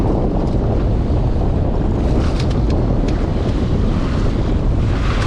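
Strong wind roars steadily across the microphone aboard a sailboat at sea off the Balearic Islands, a loud, unbroken buffeting rush with no voices.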